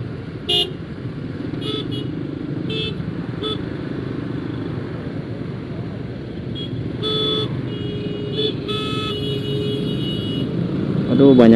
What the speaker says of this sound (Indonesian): Aduh, banyak klakson ini.